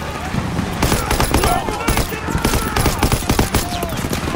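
Dense, continuous World War II battle gunfire from Call of Duty: WWII during a trench and anti-aircraft gun assault, with rapid machine-gun bursts and overlapping rifle shots filling the scene while voices shout over the din.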